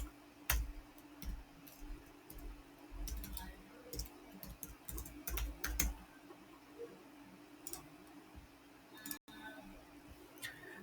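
A computer keyboard clicks quietly as a username and password are typed at a login prompt, with a steady run of light, uneven taps over faint room noise.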